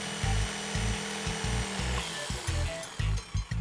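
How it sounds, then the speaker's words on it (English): Jigsaw cutting a sink opening in a laminate countertop, its motor running with a series of rapid chattering bursts that start and stop in short stretches, close and loud. "use a jigsaw to cut the opening"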